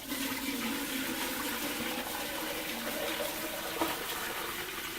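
Hot Swedish glogg is poured from a pan in a steady, continuous liquid stream, close and moderately loud, with a faint splash partway through.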